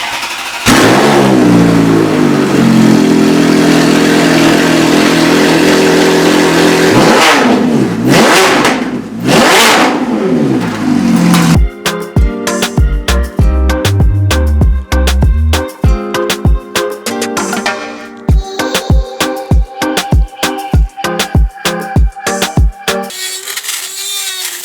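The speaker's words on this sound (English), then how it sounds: "we're gonna start it up now, no muffler, so it's gonna be straight pipe" A Ferrari F430 fitted with a straight-pipe exhaust and no muffler, heard loud and close. A steady idle rises into sharp throttle blips, then gives way to a rapid run of hard, staccato revs.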